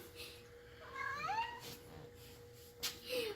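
A house cat gives a faint, rising meow indoors, a single drawn-out call with soft clicks and a steady background hum around it.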